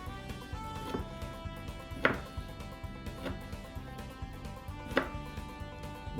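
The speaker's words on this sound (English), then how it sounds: "we're just going to cut the chops up for boneless centers" A knife slices a whole fresh boneless pork loin into chops on a cutting board, with several distinct board knocks spaced a second or more apart over a low steady background.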